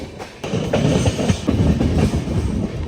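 The Shimoga Intercity passenger train rolls along the rails near Kadur Junction, its wheels giving a loud, close, steady clickety-clack with a low rumble underneath.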